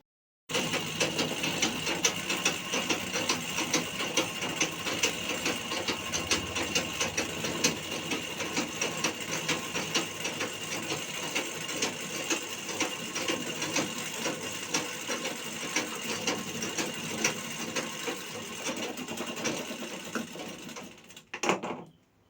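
A sewing machine runs continuously for about twenty seconds stitching the corners of folded palazzo pant fabric, a steady close whirring hum with a rapid mechanical needle rattle, stopping abruptly near the end.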